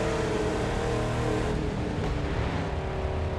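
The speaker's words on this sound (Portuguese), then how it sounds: "Ó, barulho do seu carro." Car engine in the racing video game The Crew 2, a steady loud drone with a dense, continuous roar that holds throughout with no clear revs or pauses.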